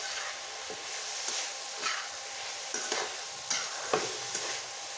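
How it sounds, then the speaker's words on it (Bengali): Banana stem cooked with dried fish is stirred in a frying pan, with repeated scraping spatula strokes over a steady, soft sizzle and no voices. "ঢাকনাটা উঠে নেড়ে নেব, খেয়েছি এখন নেড়ে নিচ্ছি।"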